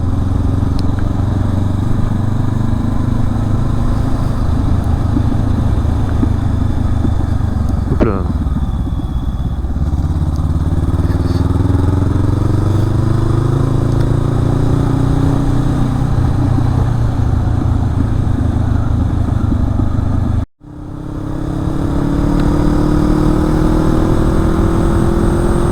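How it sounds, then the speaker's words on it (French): Motorcycle riding between Nancy and Gérardmer with a microphone placed near the exhaust, engine droning loud and close with rising and falling revs, occasional pops and a brief cutout, talk heard over it. "mettre un petit micro dessus pour faire des passages entièrement axés sur le son du pot"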